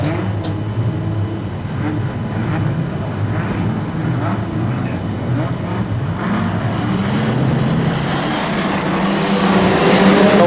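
Australian Street Stock race cars pull away at the start of a heat at Redline Raceway speedway, a loud continuous roar of several engines building steadily, with a commentator talking over it.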